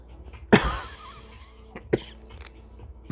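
A person coughs twice, one sharp cough and then another about a second and a half later, close and clear against a quiet room.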